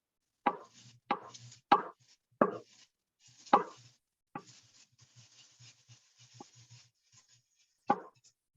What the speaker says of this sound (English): I'm just going to go ahead and keep chopping up this ginger.